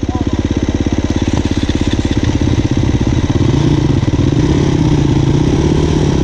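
A dirt bike motorcycle engine runs loud and close while being ridden on a dusty, rutted track, with a steady, rapid, throbbing exhaust that shifts slightly in pitch toward the end.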